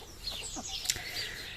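Mottled Pekin bantam chickens in their coop give short clucks and a few brighter calls, moderately close, with a sharp peak near the middle over steady low background noise.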